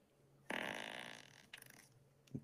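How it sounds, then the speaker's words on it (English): A sound effect called Big Fart plays as one loud, buzzy blast lasting about a second, then two shorter, quieter sputters follow. "And that's a big fart."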